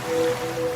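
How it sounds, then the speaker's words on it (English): Gentle ocean waves wash in a soft, steady surf with a faint whooshing wash and no distinct breaking crash, a short continuous bed of sea sound. "now you're drifting asleep to the scent and sound of waves"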